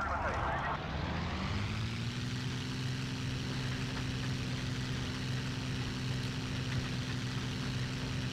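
Propeller warplane engine in the IL-2 Sturmovik flight game droning loud and steady at a constant pitch, building at the start and then holding a continuous rumbling hum with no pauses.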